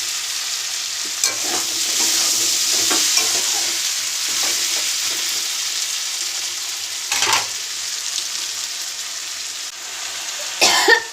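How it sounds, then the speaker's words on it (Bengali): Small prawns sizzle and hiss as they are stirred and sautéed in a hot pan, a steady frying crackle with scraping stirs, interrupted by a few nearby coughs. "দিয়ে দিয়েছি চিংড়িটা, ভালো করে কষছি"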